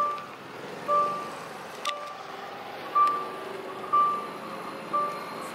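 An Ather 450 electric scooter in reverse gear gives short, evenly spaced electronic beeps, about one per second, which are clear and fairly close over a low outdoor background.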